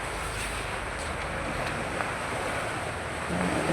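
Steady broadband rush of sea waves with wind and rain, heard through a window, continuous and moderately loud, no voices.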